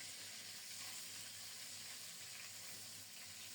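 Soft-bodied sea poa fish frying gently in oil over low heat: a faint, steady, even sizzle with no voices.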